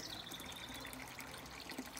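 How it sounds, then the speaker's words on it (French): Spring water running steadily from a fountain spout beneath a chapel, a continuous close trickle and splash with no voices. "J'aime bien cette source parce que l'eau coule beaucoup"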